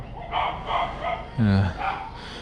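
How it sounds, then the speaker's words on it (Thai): Dogs bark at a coconut orchard in Ratchaburi, Thailand, a short close bark or two mixed in with someone talking. "ลูกศิษย์ลูกหาก็เห่าเต็ม เลยเลี้ยงไว้เยอะ เห่าดีดี"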